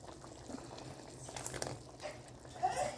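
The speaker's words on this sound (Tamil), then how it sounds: "இந்த அளவுக்கு நம்மளுக்கு குழம்பு கொதிச்சிருக்கு" Garlic curry simmering in a pot, giving a faint, steady bubbling and soft crackle close by with no voices, a few slightly louder pops near the end.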